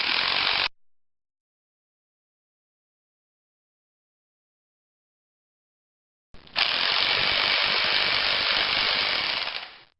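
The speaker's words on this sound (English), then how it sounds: "Just start tightening this" A bearing press tool being tightened to push a new front-wheel-drive wheel bearing into place gives steady, loud ratcheting clicks, which stop for several seconds and then start up again.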